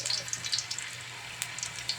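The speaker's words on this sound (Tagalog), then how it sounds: "magpiprito na tayo kadoridots ng ating kamote" Sweet potato pieces frying in hot oil, a steady soft sizzle with faint crackles and pops running throughout, close and moderately quiet.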